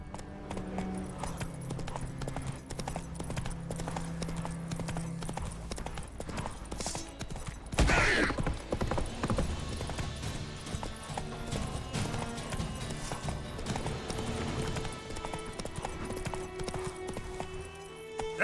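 Hooves of Roach, a horse in the video game Witcher 3, clip-clopping in a steady walking rhythm under game music and ambience, with a brief louder burst midway.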